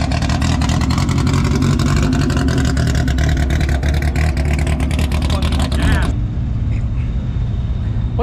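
A Honda car at an outdoor meet revs hard and steadily while driving in circles, its loud, sustained engine roar cutting off abruptly near the end and leaving a quieter idle.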